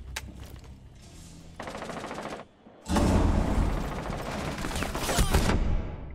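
Rainbow Six Siege gunfire, starting with scattered single shots and short rattling bursts, then a long loud stretch of rapid automatic fire close by.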